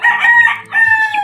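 Two loud, drawn-out harmonic calls come from a chicken at close range, with a short pause between them. The chickens kept here have fallen ill.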